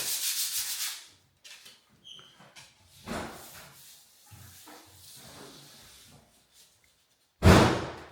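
Old wooden frames being sanded by hand in a house under renovation, with broadband rasping strokes in bursts: a long run at the start, another around three seconds, then a sharp loud stroke near the end, separated by quieter gaps.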